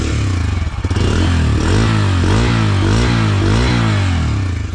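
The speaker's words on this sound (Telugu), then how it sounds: "ఒక్కసారి ఇంజన్ నోట్ మీరు వినండి, ఎగ్జాస్ట్ సౌండ్ మీరు ఎట్లా వస్తుందో మీరు వినండి ఒకసారి" A Bajaj Freedom CNG 125cc motorcycle idles and revs nearby, its engine and exhaust giving a steady low thrum that rises and falls through a few throttle blips, loud and close with no talk.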